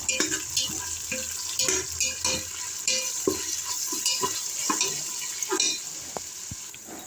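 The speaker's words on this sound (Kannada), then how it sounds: "ಅದು ಚೆನ್ನಾಗಿ ಸ್ಮೆಲ್ ಹೋಗೋ ತನಕ, ಹಸಿ ಸ್ಮೆಲ್ ಇರುತ್ತಲ್ಲ ಫ್ರೆಂಡ್ಸ್, ಹೋಗೋ ತನಕ ಚೆನ್ನಾಗಿ ಫ್ರೈ ಮಾಡ್ಕೊಳ್ಬೇಕು" Ginger garlic paste frying in a pan, a steady close sizzle broken by repeated scraping stirs and light metallic clinks, with no talk.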